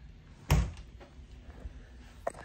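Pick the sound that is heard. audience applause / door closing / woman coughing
door closing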